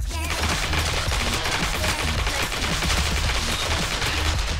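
Air strafing gunfire in the Heroes and Generals video game: a loud, continuous rapid burst of automatic fire with heavy low rumble, sustained without pause throughout.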